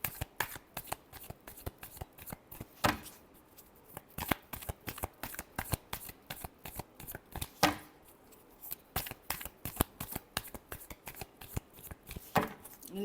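A deck of tarot cards is shuffled close by in quick riffling bursts of crisp flicks and slaps, with brief pauses between rounds and no voice over it.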